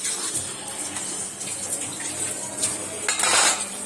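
A pot of chicken curry being covered, with a metal lid clattering against the pot amid kitchen clinks and running water nearby.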